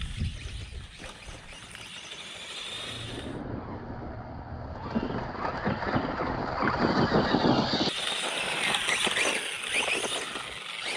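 A vintage Grasshopper RC car, restored to its original configuration, runs on a track, its engine a continuous buzzing drone that swells and fades as the car passes, with wind noise over the microphone throughout.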